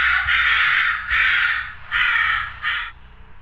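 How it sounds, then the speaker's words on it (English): A False Caroler from the horror game Home Safety Hotline gives a series of loud, harsh crow-like caws, four drawn-out croaks with short gaps between them, the last one shorter and fading. "Dude sounds like he's not sure if he wants to sing or be a freaking crow"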